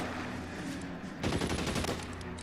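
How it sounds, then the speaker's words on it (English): Rapid gunfire in the L.A. Noire video game, a steady background of shots that bursts into a louder, denser volley of automatic fire halfway through, with no talking over it. "I can't see who's shooting"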